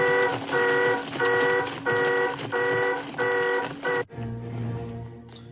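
A car alarm blares in a 1961 war film scene, loud pulsing repeated tones cycling about five times before cutting off abruptly, followed by a lower rumbling hum.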